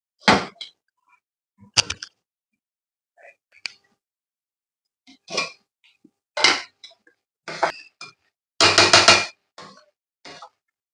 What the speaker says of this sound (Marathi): आता यामध्ये आपण झाकण ठेवू.